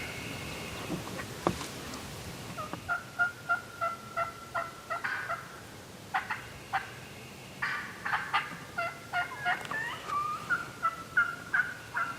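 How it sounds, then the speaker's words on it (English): A wild turkey hen calls on a public-land ridge during a hunt, giving rhythmic bursts of yelps and clucks at close to middle distance, repeated in short series with brief pauses. "We just called that hen right up to the ridge to us"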